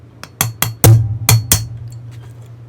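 Metal tapping on the hammer pin of an R51 pistol during disassembly produces a series of about six sharp, close metallic knocks with a low ringing thud under each strike, spaced unevenly and then trailing off into faint clinks.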